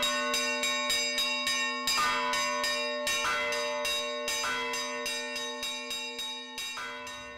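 Church bells ring in a rapid, repeated pattern, each bright strike ringing out with sustained overtones, a steady peal with no voices.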